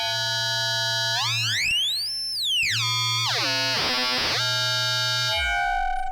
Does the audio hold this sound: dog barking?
no